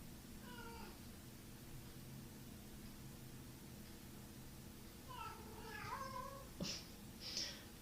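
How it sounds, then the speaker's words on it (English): Cats meowing faintly in a quiet home during a yin yoga session, a brief meow early on and then a cluster of several plaintive meows near the end over a steady low hum. "Not sure what these cats are doing today."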